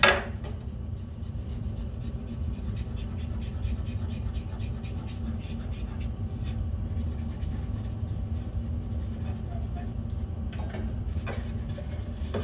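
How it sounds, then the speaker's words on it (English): Hand plane shaving the edges of wooden spice rack pieces, a steady close rasping scrape that runs continuously with faint repeated stroke ticks and no talking. "I'm going to try it in this direction and see if that looks a little better when it's planing for the edges"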